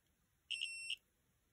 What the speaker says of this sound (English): The beeping is when I touch the metal.